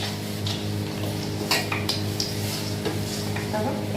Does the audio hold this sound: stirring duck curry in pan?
yes